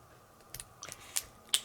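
Sharp scissors snip at a plastic comic book slab in a few quick, crisp clicks spaced unevenly, close and quiet against a near-silent room.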